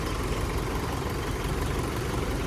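A tractor brought to haul sand from the fields drones steadily at idle, a dense unbroken engine rumble with no voices over it.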